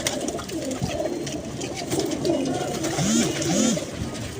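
Pigeons coo in a few soft, rolling calls close by, with a rustling background and some quiet voices.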